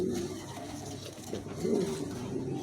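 An Indonesian male pigeon coos in low, rolling phrases, steady and fairly close, with a faint background murmur and no clear talk.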